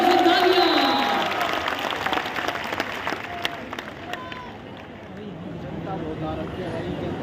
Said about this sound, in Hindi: एक बार जोरदार ताली तो बजाइए सब लोग।